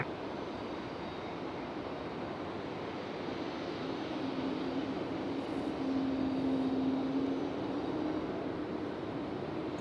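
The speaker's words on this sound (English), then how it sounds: "Hear that Breeze Airways over here on behind us, Terminal 1 side" A Breeze Airways airliner at Raleigh-Durham International Airport near the Terminal 1 side, a steady distant engine roar with a faint rising whine, continuous and moderately quiet with no talking.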